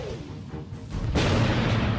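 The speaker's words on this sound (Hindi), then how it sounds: "दूसरा धमाका" During Eid prayers in Kabul, a rocket explosion near the presidential palace bursts in suddenly after a quieter rumbling stretch, then a loud, dense roar rolls on and echoes, with no voices.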